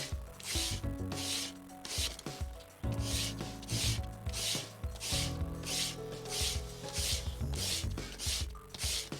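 A piece of glass is sanded by hand in rhythmic back-and-forth strokes, each one a gritty rasp, repeating about a dozen times at close range with no speech.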